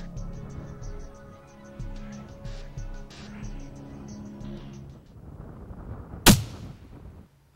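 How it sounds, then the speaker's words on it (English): A rifle shot while hunting pronghorn antelope in a Montana blizzard, one sharp loud crack near the end, after a stretch of soft background music and low rumble. "that's when Derek squeezed off the first shot."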